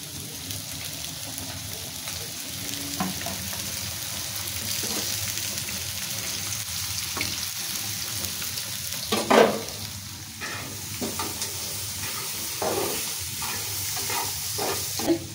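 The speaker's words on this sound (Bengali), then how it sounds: "chicken fry ভাজতেছি" Chicken frying in a pan at home, a loud continuous sizzle and crackle with occasional spatters and utensil knocks, one louder burst partway through, steady throughout.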